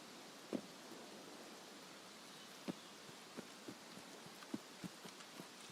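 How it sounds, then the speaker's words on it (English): Steady hiss of heavy rain pouring in the Escape from Tarkov game, a constant wash broken by a handful of faint scattered thumps and taps. "Starting to pour. They say when it rains, it pours."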